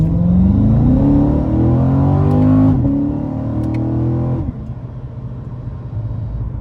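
A Corvette engine revs up with rising pitch, and the tone drops sharply at each paddle-shift gear change, twice over several seconds. Loud and close from inside the car, then settling into a lower steady drone, with no talk.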